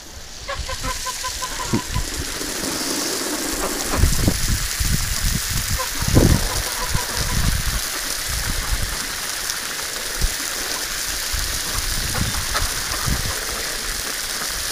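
Water sprays steadily onto wintering domestic ducks during a bath, a broad hiss running the whole time, with a few duck honks and quacks rising over it.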